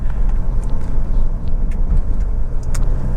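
Honda CR-V 2.2 i-DTEC EX 4x4 diesel engine idling after running for some time, a steady low rumble heard up close and loud, with faint light ticks on top and no talk.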